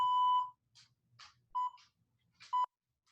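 An interval timer for a HIIT workout gives warning beeps: a long steady tone, then two shorter beeps, with soft scattered sounds in between.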